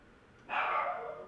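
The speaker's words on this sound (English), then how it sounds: "My dog is shouting" A dog barks once or in a short burst indoors, the sound loud and close after a moment of quiet and trailing off gradually.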